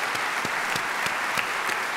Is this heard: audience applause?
yes